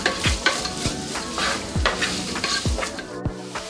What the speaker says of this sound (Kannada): ಇದನ್ನು ಗೋಲ್ಡನ್ ಬ್ರೌನ್ ಬರೋ ತನಕ ಇದೇ ರೀತಿನೇ ಫ್ರೈ ಮಾಡ್ಕೊಳ್ಳೋಣ.